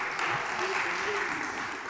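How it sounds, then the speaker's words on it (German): Applause fills a city council session in Dresden, a steady patter of clapping from the chamber lasting the whole short stretch, with a voice speaking over it. "Sie haben Ihren Beifall, danke."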